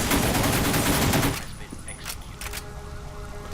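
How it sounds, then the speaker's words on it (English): A Krone Magistrate Carbine firing in the video game TimeShift: a rapid, loud automatic burst rattles for over a second, then a few fainter scattered shots follow over a quieter background. "It fires rather weak bullets at a high rate of fire"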